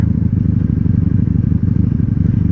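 A 1997 Honda Magna VF750C motorcycle engine runs close and loud, a steady throbbing rumble with a fast, even pulse and slight clatter, held at high revs without a break.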